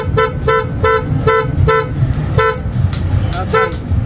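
A loud aftermarket horn on a Honda ADV160 scooter honks in a rapid series of short, sharp beeps, close by, with engine noise underneath.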